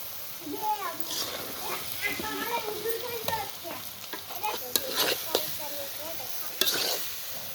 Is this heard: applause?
no